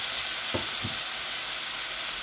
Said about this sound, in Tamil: இதுவும் நல்லா வதக்கி விடலாம்.